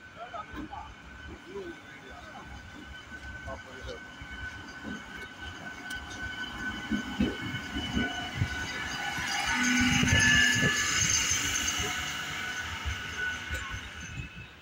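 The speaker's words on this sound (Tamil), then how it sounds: "பார்ப்போம், ட்ரெயின் வரட்டும்" A 12-car MEMU express train approaches and rumbles past, growing louder toward the middle with rattling and a high screech before fading slightly, with a voice faintly present.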